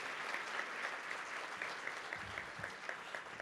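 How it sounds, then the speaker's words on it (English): An audience at the Oakland County Economic Outlook 2022 event claps steadily for the sponsors, a dense, even applause from a large crowd heard at some distance. "So give them a big round of applause as well."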